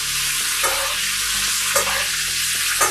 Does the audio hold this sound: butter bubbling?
yes